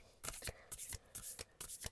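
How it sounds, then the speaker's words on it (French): Oracle cards being shuffled by hand, with four separate riffling bursts in a steady rhythm, close and fairly soft with short pauses between them. "Donc, je vais prendre le temps de bien le mélanger."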